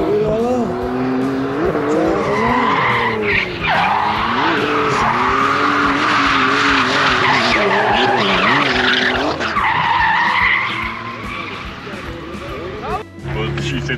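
A drift car with a newly fitted 1000 hp engine skids with long, loud tire squeal over a roaring, revving motor that rises and falls, while someone talks over the noise.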